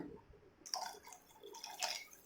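Water is poured into idli batter in a home kitchen, giving a soft trickle with a few splashy drips, quiet and close, with no talking.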